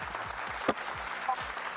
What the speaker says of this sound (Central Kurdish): کوا چەپڵەکانتان